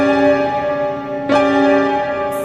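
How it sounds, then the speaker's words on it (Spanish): A tritone interval, known as the devil's note, rings as sustained, bell-like tones with a fresh strike about halfway through, loud and alone. "la nota tritón, más conocida como la nota del diablo, y suena así."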